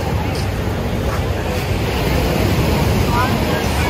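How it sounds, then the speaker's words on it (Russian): Big stormy sea waves at Alushta surge and roar in a continuous loud wash, with heavy wind buffeting the microphone throughout. "Только можно плескаться на больших волнах"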